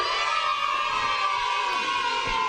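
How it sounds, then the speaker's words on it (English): A studio audience claps steadily for guest Peter Stewart on a variety show, a dense, even wash of applause that holds through the whole stretch without a break. "I get the applause"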